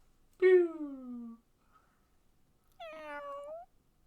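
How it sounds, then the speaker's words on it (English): Two clear meows from a cat sound effect played through a phone speaker, the first long and falling, the second shorter and rising, separated by a quiet pause. "I can do it on my phone just to make it go meow again"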